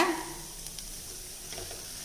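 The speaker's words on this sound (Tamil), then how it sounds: "நம்ம அரைச்ச விழுது இதில் சேர்த்துடலாங்க" Ground spice paste hits a hot pan with sambar powder and is stirred in, giving a steady close sizzle with soft scraping stir strokes throughout.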